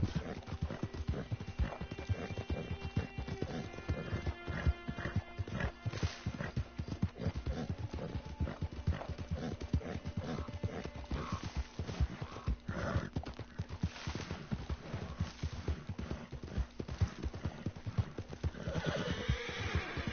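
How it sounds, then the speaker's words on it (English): Steady clip-clop of horse hooves at a gallop with repeated neighing and whinnying in Red Dead Redemption 2 online, game-like music and effects underneath, loud and continuous. "Wow, horses."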